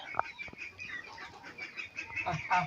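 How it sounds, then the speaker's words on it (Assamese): Local chickens on a small home farm, scattered soft clucks and short calls, close and faint, with a few sharper notes toward the end and no talk. "এয়া চাওক, মুৰ্গী লোকেল কুকুৰা।"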